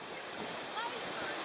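Ocean waves and wind aboard a racing sailboat surfing large swells at about 20 knots offshore, a steady broadband roar of rushing water and wind noise with no clear breaks.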